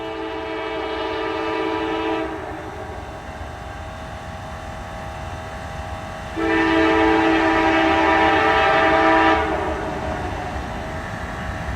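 A Norfolk Southern freight train rumbles past steadily while a loud multi-tone horn blasts twice, the second blast longer, with rail noise continuing underneath.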